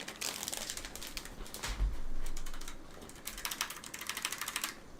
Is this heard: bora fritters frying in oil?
no